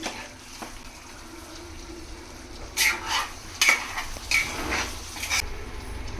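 A spoon scrapes and clinks as it stirs a thick tomato masala in a pan for chicken biryani, with a few distinct stirring strokes over a faint background sizzle.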